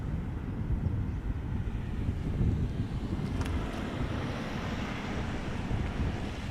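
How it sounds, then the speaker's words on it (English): A Finnair Airbus A350 airliner coming in to land at Schiphol Airport, a steady broadband roar of engines and rushing air with heavy wind buffeting the microphone throughout. "And meanwhile the A350 of Finnair."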